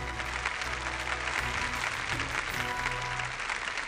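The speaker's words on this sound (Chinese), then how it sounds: "我们掌声送给周老师" Audience applause fills a lecture hall at a public archaeology talk on a Northern Song stone relief, a dense, steady wash of clapping lasting several seconds without a break.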